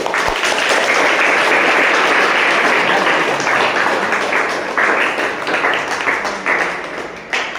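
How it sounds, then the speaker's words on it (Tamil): An audience at a Tamil Bharathiyar Gurukulam appreciation gathering bursts into loud, continuous applause from many hands, a thick sustained roar of clapping that thins out slightly over its final seconds. "கைத்தட்டலாம்."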